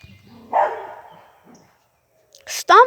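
A dog barks as a deer chases it outdoors: one short close bark, a pause, then two more quick barks or yelps near the end.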